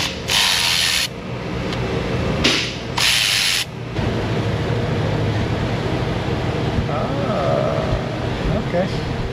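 Ratchet turning small Torx sockets in a shop, brief clicking ratchet strokes early on, then faint scattered mechanical ticking over a steady background hum, with bursts of loud hiss at the start and some talking.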